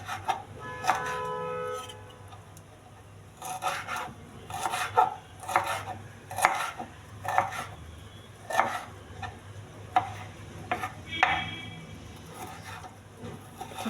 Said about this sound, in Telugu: అల్లం అండి చిన్న ముక్కలు కట్ చేసుకోవాలి.